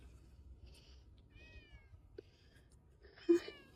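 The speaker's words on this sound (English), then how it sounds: "So there's the kitty." A thin cat gives several soft, separate meows in a quiet setting, rising and falling calls spaced out over a few seconds, with a louder, sharper one near the end.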